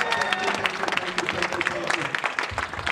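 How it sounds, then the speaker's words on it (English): An audience clapping at a questions-and-answers session on Marcus Garvey, a dense, continuous patter of many hands, moderately loud and unbroken for the whole stretch. "this is the first time I'm seeing Rastaman clapping"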